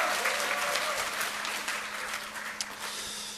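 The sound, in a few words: audience applause and cheering at lecture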